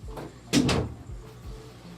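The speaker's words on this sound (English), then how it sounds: "I'll go ahead and shut this door behind me." A room door in a home fish room is pushed shut nearby, a soft rustling swing followed by a solid thump and latch, then a couple of faint knocks.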